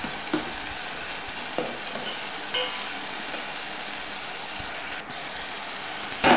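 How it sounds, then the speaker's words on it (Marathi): Chopped tomato frying in oil in a pan, a steady soft sizzle with faint scrapes of stirring, fairly close and without voices, with a brief louder scrape at the end. "टोमॅटो 2 मिनटं तेलामध्ये भाजून घ्यायचा आहे"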